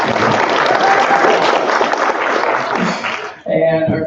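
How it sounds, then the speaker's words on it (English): Audience applause at a conference session welcoming a panel host, a fairly loud burst of clapping lasting about three seconds before a voice resumes speaking. "Megan, round of applause, please."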